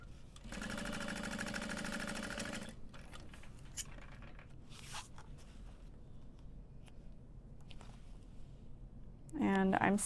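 Sewing machine running a back stitch along a curved bag lining seam at a 3/8 inch allowance, a steady loud whir lasting about two seconds, followed by quieter handling noise and a brief voice near the end.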